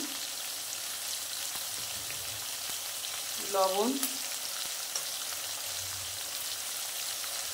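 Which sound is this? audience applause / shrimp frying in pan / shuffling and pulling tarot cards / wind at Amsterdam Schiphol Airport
shrimp frying in pan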